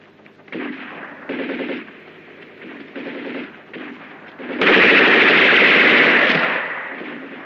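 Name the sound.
gunfire from a weapon in a war film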